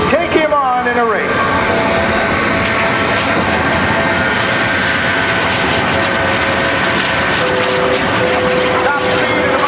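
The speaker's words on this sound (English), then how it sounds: "So here comes the photo pass, your best chance to catch the FLS Microjet in the sky." A Microjet jet aircraft races past at an air show, its loud, steady engine whine filling the scene from start to finish, with a quick pitch sweep at the opening as it passes close by.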